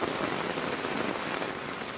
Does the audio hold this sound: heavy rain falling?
yes